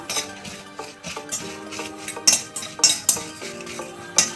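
Byadgi chillies being stirred in a pan, a run of close metallic clinks and scrapes from a utensil against the pan, repeating in uneven strokes with no talk.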